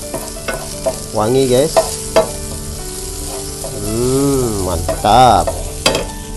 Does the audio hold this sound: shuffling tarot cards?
no